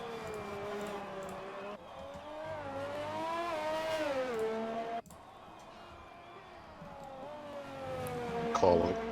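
A McLaren F1 car's engine in a racing video game screams through rising and falling revs with gear shifts and a brief tyre squeal near the end, loud and continuous, while a voice talks over it.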